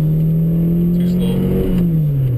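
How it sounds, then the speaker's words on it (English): Car engine revving hard through gear changes, recorded from inside the car, with a loud steady drone whose pitch sags between shifts before climbing again. "See how much the RPMs drop in between shifts."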